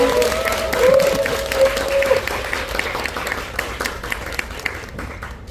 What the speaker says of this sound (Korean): 우리가 사랑하는 지은님을 다시 모셔보겠습니다. 박수로 맞아주세요.